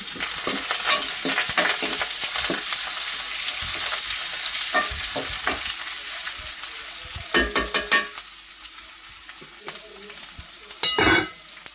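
Food sautéing in a pan, with a continuous loud sizzle and frequent close scraping stir strokes, several bunched together toward the end.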